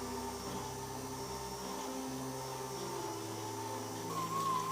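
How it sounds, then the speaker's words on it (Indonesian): An electric stand mixer kneads donut dough at low speed, giving a faint, steady motor whine with a constant hum and a slight shift in tone partway through. "kita mixer dulu dengan speed 1 sampai menyatu"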